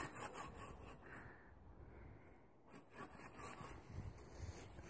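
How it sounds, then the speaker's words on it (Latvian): A hand saw cuts through the trunk of an apple tree in an orchard, giving a rough, rhythmic rasping stroke after stroke at close range, fairly quiet with a brief pause mid-way. "Vēl aizvien zāģējam."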